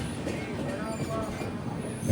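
Rumbling train noise, steady and broad, as an express pulls into platform 1 at Bhopal Junction, with a low continuous roll of carriages and faint wheel sounds throughout.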